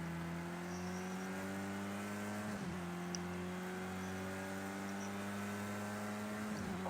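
Race car engine droning steadily from inside the car during a track day lap, a loud sustained tone with brief dips around gear shifts, no talking.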